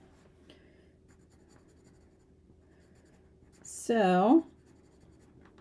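Pencil crayons colour a card with a faint, steady scratching, briefly broken by a near voice.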